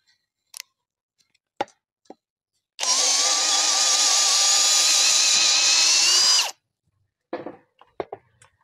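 A single sustained burst of a DCA cordless brushless drill boring at high speed for about three and a half seconds, loud and close, with scattered clicks and knocks before and after.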